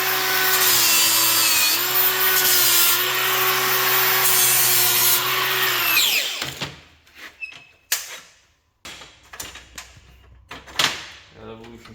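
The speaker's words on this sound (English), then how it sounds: "That Evolution saw makes a beautiful cut." An Evolution saw cuts through metal for a custom light box build, giving a loud, sustained high-pitched whine for about six seconds before winding down, followed by clanks and handling noises.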